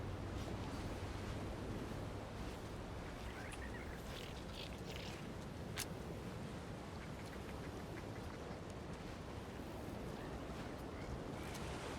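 Ocean surf rolls continuously in the video game The Outer Worlds 2, a broad washing roar of waves mixed with wind-like noise, with a few faint higher sounds briefly audible partway through.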